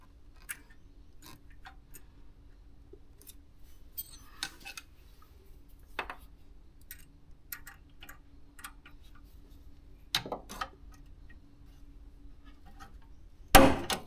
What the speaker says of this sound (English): I'll just use a screwdriver to try to lever this down again